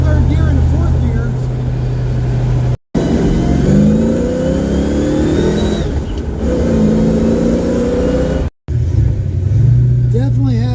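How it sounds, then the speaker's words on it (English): A Ford car with a rebuilt 8.8 rear end accelerates through the gears, its engine revving loud and steady from start to end while a transmission grinding noise runs underneath, broken by two brief dropouts; a person talks over it. "Definitely have a grinding in the transmission now."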